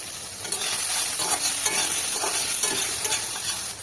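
Soaked soya chunks frying with turmeric and chilli powder in a pan: a steady, close sizzle with the scrape and rustle of stirring, no voices.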